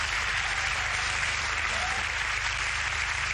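Steady, dense audience applause at a Lee Evans comedy show, a broad wash of many hands clapping continuously throughout without pause.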